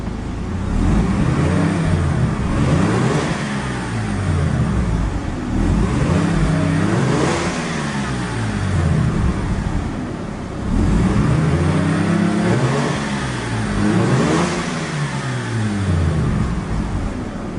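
A 1993 Mazda RX-7 twin turbo with its rotary engine running, loud and close, revving repeatedly in rising and falling sweeps over a steady idle, with no talk.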